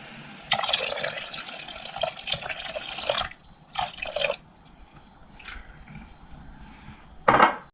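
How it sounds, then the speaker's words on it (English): Milk pours and splashes into a pot of broth in a few short bursts, fairly quiet, with a brief louder splash near the end. "Now I'll just add some milk."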